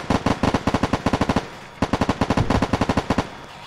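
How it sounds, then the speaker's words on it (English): Rapid bursts of minigun fire from a vehicle in the video game Arma 3: two long, fast-rattling volleys separated by a brief pause, loud and close. "Vehicle on our left with the minigun."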